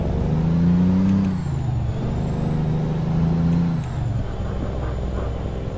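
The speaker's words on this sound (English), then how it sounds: "Working my downshift." A heavy truck in American Truck Simulator downshifts. Its engine drone rises and falls in pitch through two gear changes, loud and constant, under a thin high whine.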